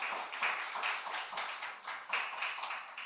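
Sustained applause from an audience at a Daegu youth social living lab judging event, dense steady clapping honoring the judges and ten teams, moderately loud and continuous throughout.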